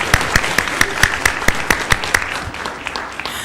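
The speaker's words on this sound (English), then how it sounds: "That can get applause" Applause from the audience at a school board meeting, a run of sharp, dense claps that stays steady for a few seconds and then thins out toward the end.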